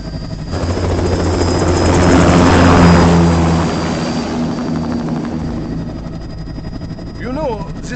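A powerful whirring engine roar builds and then eases off as an aircraft lifts off in Metal Gear Rising: Revengeance, with a steady high whine above it and a short warbling electronic tone at the end.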